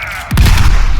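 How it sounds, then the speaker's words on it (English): A grenade blast in the sci-fi shooter Warframe: one loud, sudden boom that rings out with a rumbling tail amid ongoing game sound effects. "Oh, that's a grenade."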